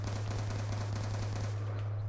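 Rapid automatic fire from the MTAR assault rifle in the Black Ops 2 Zombies game on the Farm map, a steady burst of dense shots sounding close and loud over a deep droning hum, with nothing else cutting through.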